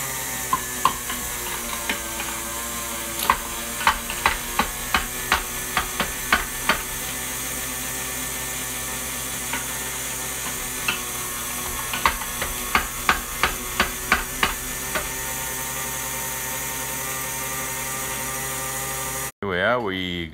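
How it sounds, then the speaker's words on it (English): An electric meat grinder grinds meat with a steady motor drone that runs almost the whole time, broken by scattered clicks and knocks, then cuts off abruptly near the end. "So we're gonna grind the meat now."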